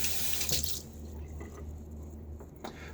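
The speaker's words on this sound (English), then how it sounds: "I'm using my tepid tap water, just kind of whatever comes out of the cold tap" Cold tap water runs steadily into a bathroom sink at shaving time, a continuous splashing rush with a few louder sloshes and drips close by.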